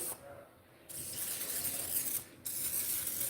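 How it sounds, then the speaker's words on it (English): Two bursts of hissing cooking spray onto a pan, one short and one longer, close by, with no talking. "Put a little spray in there all over your pan."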